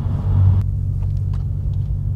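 A Stage 1 tuned 370 bhp Audi S3 saloon pulls hard, with a deep, steady engine rumble heard from inside the cabin. A brief higher-pitched whoosh fades after the first half second, and no one speaks.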